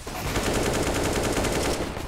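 Rapid automatic gunfire in a first-person shooter game, a dense, continuous burst of evenly spaced shots that runs loud and close for about two seconds without pause or speech.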